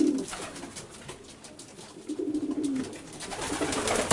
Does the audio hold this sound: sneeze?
no